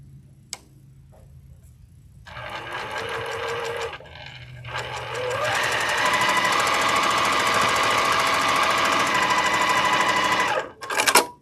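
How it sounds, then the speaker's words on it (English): Sewing machine stitching a short seam on a candy cane Christmas stocking, starting with brief mechanical clicks, then a loud steady rapid whir running for several seconds before stopping, close up, no speech. "we're only sewing a very short distance"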